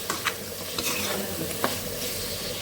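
Food is dropped into hot oil in a pan in a home kitchen, giving a dense continuous sizzle close up, with a few soft stirring scrapes over it and no voices.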